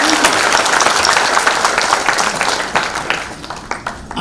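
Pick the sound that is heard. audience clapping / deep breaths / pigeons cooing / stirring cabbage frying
audience clapping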